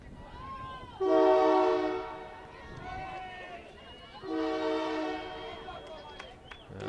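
A passing train sounds two long, loud horn blasts beside a girls' high school soccer game in the Minneapolis area, over rumbling track noise and faint commentary.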